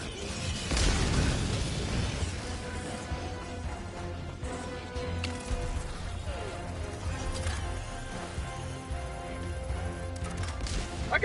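Grenade blast in the game Helldivers 2, a loud burst near the start followed by crashing debris and rumble amid dense battle noise and music.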